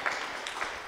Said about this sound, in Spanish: Aplausos para Jorge.